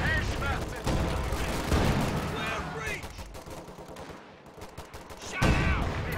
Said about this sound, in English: Rifle grenade way off target